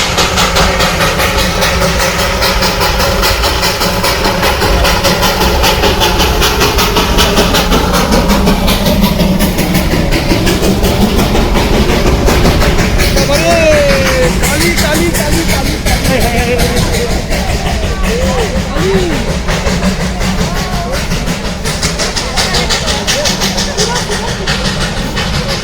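The Darjeeling toy train engine at Batasia Eco Garden rumbles and hisses steadily and loudly for about twenty-five seconds, under people talking nearby.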